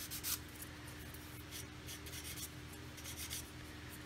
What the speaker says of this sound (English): rather than just get in there and sand this flat